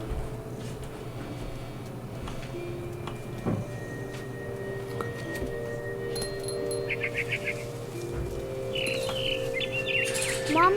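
A frightened bird in the video game What Remains of Edith Finch gives short bursts of quick chirps and tweets, clustered near the end, over a low steady game ambience with distant tones.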